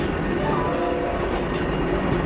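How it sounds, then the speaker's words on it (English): A subway train pulling into a stop gives a loud, continuous close rumble with rail clatter and metallic screech, filling the whole stretch without voices. "as our subway pulled into the first stop"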